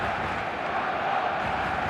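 Dense stadium crowd roar in the football video game eFootball, a steady loud wash of cheering voices held throughout.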